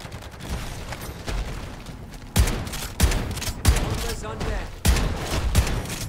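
An automated turret in the MW3 Zombies game fires rapid bursts of gunfire, loud cracking volleys starting around the midpoint and repeating in heavy, booming clusters against a low rumbling background.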